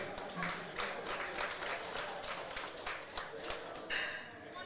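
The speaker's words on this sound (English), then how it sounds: "Give him a round of applause." Audience applause at a powerlifting national championship meet, a steady patter of clapping through the whole stretch with a few sharper claps standing out, moderately loud in a large hall.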